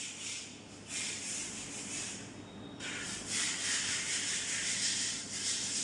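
Stitched fabric of a princess cut blouse being turned right side out by hand, soft close rustling and rubbing of cloth in a few swelling bursts, with no talking.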